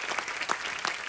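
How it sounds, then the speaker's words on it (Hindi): Studio audience applause at a comedy show: dense, bright clapping from a crowd, sustained and fairly loud across the brief moment. "एक बार जोरदार तालियां हो जाए"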